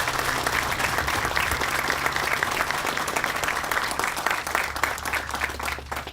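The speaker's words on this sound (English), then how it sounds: "we could give them all a great round of applause" Sustained applause from an audience at a memorial bridge dedication ceremony, dense and steady clapping filling the space for several seconds with a faint low hum underneath.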